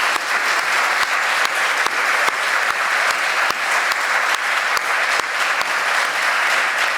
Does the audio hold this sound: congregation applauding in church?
yes